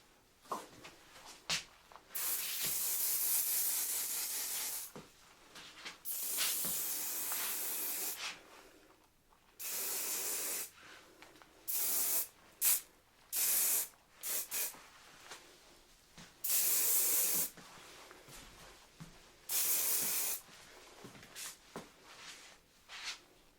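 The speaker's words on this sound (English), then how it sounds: "So I am going to do a little bit of hairspray on these curls before we do your scrunch." Hairspray mists onto styled curls in a series of close, breathy hissing bursts, some long and some short, separated by quiet gaps.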